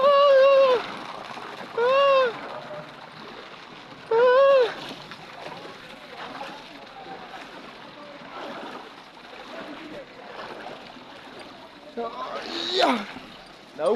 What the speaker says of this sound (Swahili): Nimeamua kuwa Yesu, nipite ndani ya maji.